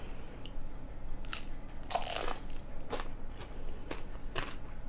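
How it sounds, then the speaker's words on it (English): Crunchy bites into a spicy homemade snack topped with salsa, several sharp crisp crunches spaced a second or so apart, close and clear with no talking. "Good crunch."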